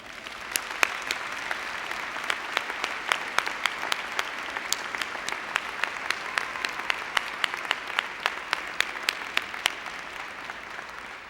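A high school graduation audience gives retiring teachers a long round of applause, with dense, sustained clapping and sharp individual claps standing out throughout, no voices over it.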